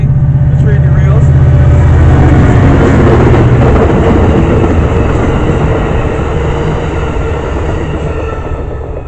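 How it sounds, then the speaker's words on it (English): A train rumbles past nearby, loud and steady with low rolling drone and rattling wheels, slowly easing off toward the end. "I'm gonna wait till this train goes by."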